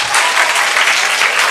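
An audience at a career guidance programme gives a student a round of loud, dense applause, with many hands clapping steadily and close throughout.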